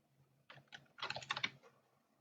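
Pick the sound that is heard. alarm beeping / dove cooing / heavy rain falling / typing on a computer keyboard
typing on a computer keyboard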